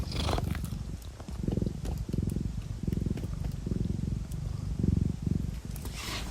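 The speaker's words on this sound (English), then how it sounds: "Can you hear her purring?" A cat purrs close up in a steady, rumbling rhythm of breaths, each purr swelling and fading, with no talking.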